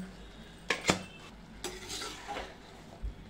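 Jeera rice is stirred in a pot with a spoon: a few sharp metallic clinks and scrapes against the pot, then softer shuffling strokes, all fairly quiet with no talking.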